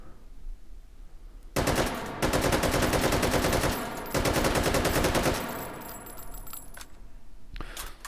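Bursts of rapid automatic fire from a Malyuk rifle with a stamped sheet metal receiver in a VR video game, loud and crisp, two long strings of shots separated by a short gap, then scattered metallic clinks and a final few rounds.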